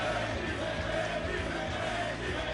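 A sold-out crowd at the PBA Tour Finals bowling event in Bethlehem, Pennsylvania, roaring and cheering steadily throughout, a dense wash of voices and whoops filling the arena.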